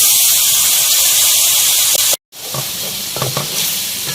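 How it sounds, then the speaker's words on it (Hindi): Karahi masala with cumin and coriander powder frying in oil in a pan gives a loud, steady sizzle and hiss, broken by a brief cut in the middle, followed by a few soft stirring scrapes. "इन सब चीज़ों के साथ भी इसे बहुत अच्छी तरह से भूनना है।"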